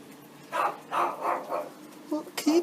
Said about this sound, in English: How could you sleep with him when he barks a lot like this?